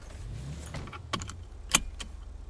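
Car keys jangling in the video game GTA 5, a couple of short metallic jingles close by over a low idling car engine.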